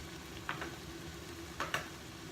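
Vegetables for a beef stew fry in a pot on the stove with a faint, steady sizzle, broken by two or three brief stirring clicks and scrapes, quiet and close with no talk.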